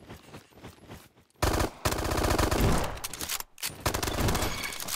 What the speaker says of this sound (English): Okay, so that's like a machine pistol